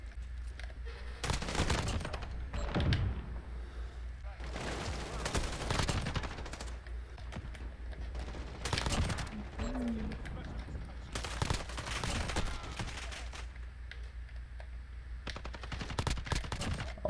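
Gremlin AUG automatic rifle fire in Call of Duty Modern Warfare comes in about five sharp bursts spread across a fight, loud and near, separated by quieter gaps with occasional talk.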